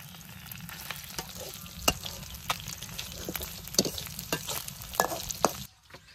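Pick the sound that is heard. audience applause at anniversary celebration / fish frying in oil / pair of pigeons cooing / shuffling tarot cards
fish frying in oil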